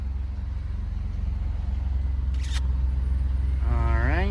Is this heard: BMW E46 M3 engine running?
yes